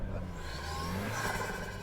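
A 2025 Toyota 4Runner Trailhunter engine revs through its snorkel, a loud, close, sustained throaty drone that swells slightly with no talking over it.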